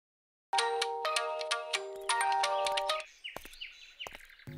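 A phone's ringtone starts abruptly after a moment of silence, a loud electronic melody of repeating tones that shifts into quicker chirping notes for the last second or so.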